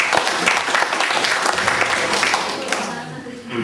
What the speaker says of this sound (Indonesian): Tepuk tangan dulu kepada Alphonse Blanc.